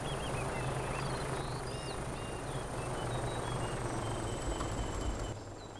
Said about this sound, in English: could I hear a helicopter?